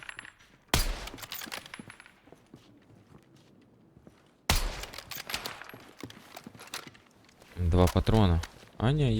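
Gunfire in the video game Battlefield 6 REDSEC, two sharp loud shots with ringing decays, then a burst of rapid fire near the end, with someone talking over the quieter stretches between.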